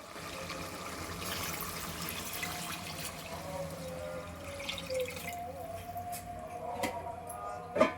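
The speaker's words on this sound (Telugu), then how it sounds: "నేను 5 గ్లాసులు నీళ్ళు పోసుకుంటున్నాను" Water poured into a cooking pot for chicken biryani, five glasses of it, a faint running splash and soft trickle at close range, with a small clink near the end and no talk.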